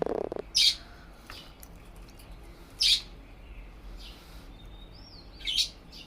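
Diamond doves give three short, bright chirps spaced a couple of seconds apart, each brief and moderately loud over a quiet, hushed background.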